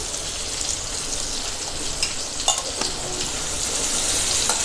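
Chicken meat frying in a pan with black pepper and chili powder gives a steady, close hiss of sizzling oil with scattered sharp pops, and no voices.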